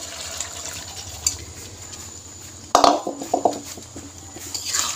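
Water poured into a pan of cooking potatoes, a short splashing burst with clinks against the pan, set over a quiet kitchen background hum.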